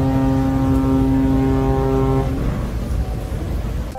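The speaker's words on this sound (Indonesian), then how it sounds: "terdengar bunyi sirine dari sana tuh guys" A ship horn blasts from a nearby cruise ship, a loud, deep, sustained tone that holds for about two seconds before cutting off into rumbling harbor noise.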